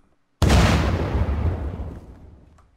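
A vehicle in the game Unturned blows up in one sudden loud blast that starts sharply from near silence, then rumbles and fades slowly over about two seconds, with no talking.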